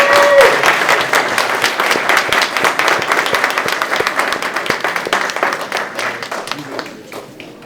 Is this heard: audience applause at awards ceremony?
yes